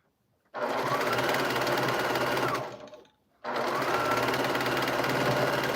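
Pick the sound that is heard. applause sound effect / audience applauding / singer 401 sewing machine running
singer 401 sewing machine running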